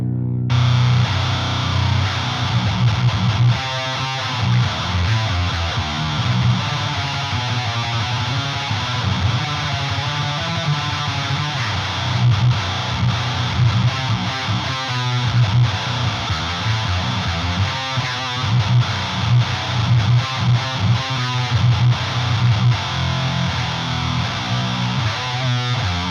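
Heavily distorted electric guitar played through a Boss HM2 pedal into a 5150 amp with a noise gate, a thick, buzzing early-90s Swedish death metal tone riffing loudly and continuously with chugging palm-muted rhythms.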